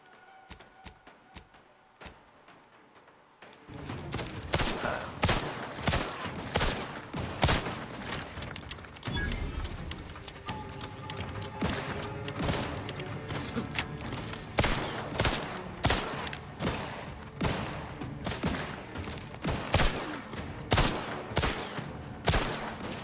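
Rapid gunfire and explosions rattle through a firefight in The Outer Worlds 2, loud and dense with bursts of shots and impacts, preceded by a few seconds of quieter game ambience.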